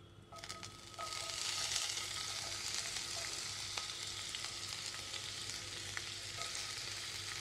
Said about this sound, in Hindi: अब यहीं पर पहले से कटी हुई सब्जियों को इसमें डाल देना है।